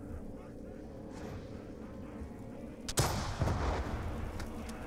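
A weapon in Call of Duty: Black Ops II Zombies, on the Town map, lets out one heavy, booming shot partway through. The blast rises over a steady low rumble of game sound, and a louder roar lingers after it.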